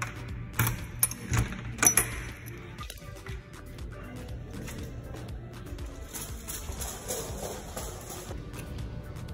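A bunch of keys jangles in short metallic bursts near the start, followed by quieter shuffling and handling noise.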